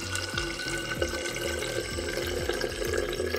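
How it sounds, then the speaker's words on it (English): Water runs from an opened valve through a Hydrosense Legionella filter into a measuring vessel, a steady trickling flow with rhythmic gurgling pulses and faint drips, close and fairly quiet. "we can open the valve and start measuring the water that's passed through the filter"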